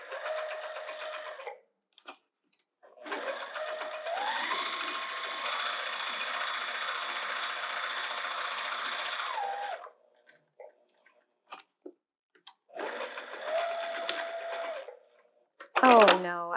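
A sewing machine runs a bag side seam in three bursts: a short run, a long steady stitching stretch, then another short run, separated by brief pauses and ending with a clunk.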